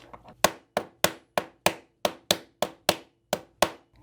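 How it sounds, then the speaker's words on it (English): Hammer taps on a punch driving pins from a SCCY CPX pistol frame: about ten sharp, evenly spaced metallic strikes, close and loud, with no speech. "before we start really hammering the crap out of it"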